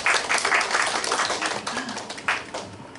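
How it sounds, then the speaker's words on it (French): A church congregation at a French-language service claps in welcome, producing a burst of brisk, close applause that gradually thins out over a few seconds. "Bienvenue. On applaudit."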